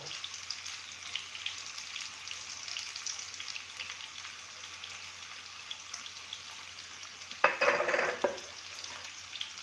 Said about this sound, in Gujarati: હવે એને આપણે સરસ અંદર ટમેટાને શેકાવા દેશું